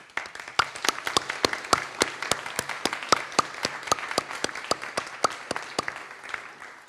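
Audience at a university graduation ceremony applauding the newest graduates, a run of distinct, evenly spaced claps, crisp and moderately near, with no talk over them.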